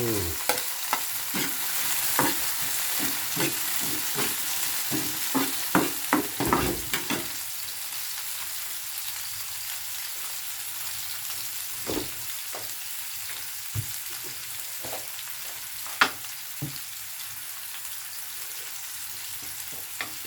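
An egg omelette sizzling in a hot pan with repeated scraping and stirring strokes early on, then a steady frying hiss with occasional clinks.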